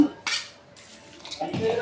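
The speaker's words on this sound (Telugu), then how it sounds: "పోపులన్నీ వేసి కలుపుకుంటాను" Cooked rice mixed with tempering for tamarind pulihora is stirred with a metal spoon, giving a few close scraping clinks against the pot, separated by short lulls.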